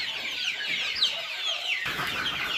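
Native nati koli country chickens on a farm cluck and squawk in a busy, overlapping chorus, loud and near, with a sudden shift in the background noise toward the end.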